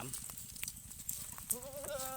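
A pregnant goat of F3 breeding bleats on a farm, with several short broken calls ending in one longer wavering bleat, heard close over scuffling noise and other livestock sounds.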